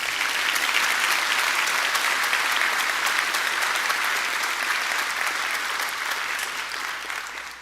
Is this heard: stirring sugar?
no